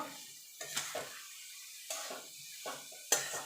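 Chopped cabbage tipped into a pan of fried spices and stirred, giving a few soft clinks and scrapes of a spoon against the pan with light sizzling between them, quiet and close.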